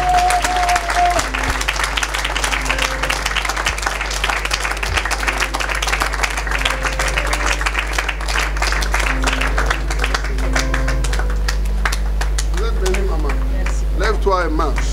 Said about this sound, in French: Je crois que vous allez acclamer pour ceux qui ont vu.